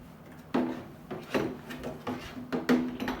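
The door of a ride-on toy car is opened and closed repeatedly, making several plastic clacks and rubbing knocks at irregular intervals, close and fairly soft.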